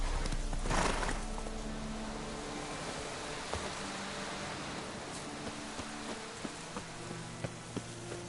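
Hooves of the horse Roach clip-clopping in a video game, a faint steady plodding rhythm of soft hoof falls after an initial rustle, with a few sharper knocks toward the end.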